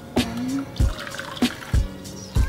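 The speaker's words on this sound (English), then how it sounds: "I'm putting some boiling water" Boiling water goes into a pot of lentils in a home kitchen, heard as a few separate liquid splashes and drips spaced about half a second apart, close and moderately loud with no talking.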